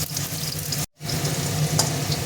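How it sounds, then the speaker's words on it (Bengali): Steamed potatoes frying in hot oil in a home kitchen, a steady close sizzle with a short break near the start before it picks up again, no talking. "এবার আলুগুলো ভেজে নেব।"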